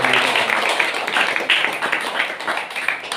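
Crowd applause at a church flag-hoisting festival for Our Lady of Lourdes in North Vijayanarayanam, steady dense hand clapping from many people, fairly near and continuous throughout.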